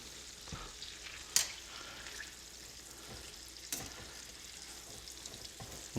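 Onions sprinkled with barbecue rub sauté in a pan toward caramelizing, a soft steady sizzle with a few sharp clatters of stirring, fairly quiet and free of talk.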